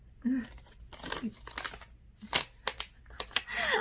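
Short bursts of crinkling plastic cosmetic packaging and scattered clicks and rustles, as it is fumbled and handled up close while being opened, with brief pauses between.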